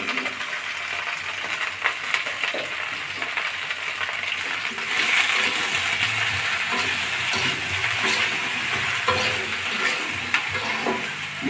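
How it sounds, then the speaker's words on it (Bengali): Okra sizzles steadily in a hot pan with salt and turmeric, a continuous close frying hiss broken by repeated scraping and clinking as a utensil stirs the pieces. "ভালো করে ভাজি করে নেবো ভেন্ডিগুলো"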